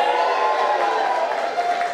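An audience cheers at a science talk, a steady two-second roar of many voices that stays loud and even throughout, with no single speaker standing out.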